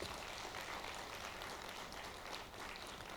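A church congregation claps together during a Korean revival meeting at Samgwang Church, a steady, dense patter of hands that stays even throughout and sounds fairly distant and quiet.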